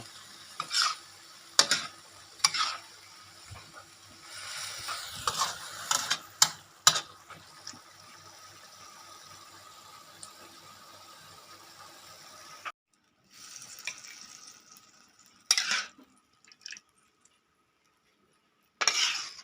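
Kale and pork belly stir-fried in a wok with a little pounded chili, the spatula scraping and clacking in quick bursts over a soft sizzle, with pauses and stretches of near silence.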